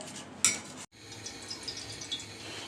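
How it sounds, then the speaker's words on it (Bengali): Spanish omelette ingredients are mixed in a bowl: one bright utensil clink, a brief pause, then soft, quiet stirring and scraping without talk. "ভালো করে একটু মিশিয়ে নিতে হবে"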